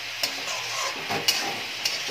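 Spoon stirring fried potato, eggplant, green chillies and drumstick flowers in a pan, steady soft sizzle with a few sharp scraping clinks spaced through it, close with no talk.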